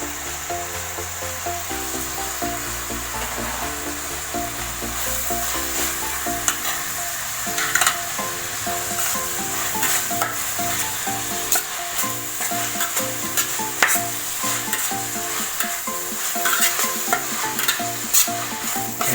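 Chopped onions sizzle steadily in hot oil as green chillies and curry leaves go in, with a spoon scraping and stirring the pan in repeated clatters, close and continuous with no talk, while making egg rice.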